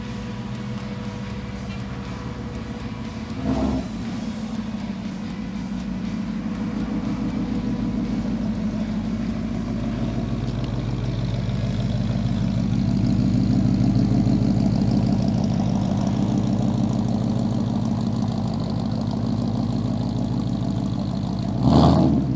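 A big Ford Mustang 460 Cobra V8 engine rumbles at idle, then builds into a sustained rev that swells and eases off. No talking is heard.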